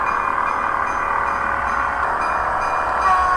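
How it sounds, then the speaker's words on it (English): Narrow-gauge T47 locomotive hauling a goods train of standard-gauge freight wagons on carrier trucks between Aurich and Leer, a steady continuous rumble throughout at moderate loudness, with no voices. "Here the T47 is hauling such a train from Aurich to Leer."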